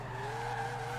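A Subaru BRZ skids in the Forza racing game, its tires squealing in a sustained, tonal whine over a low engine drone, faint and steady throughout.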